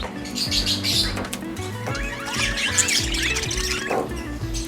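Many parakeets chirping and twittering busily at close range, overlapping calls with a low humming and rumbling background throughout.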